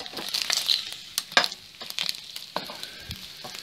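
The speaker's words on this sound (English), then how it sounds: "look how fast this is frying up." Bacon frying in a pan on a wood stove, a close, crackling sizzle with scattered sharp pops and spits at an uneven rhythm, moderately loud with no voices.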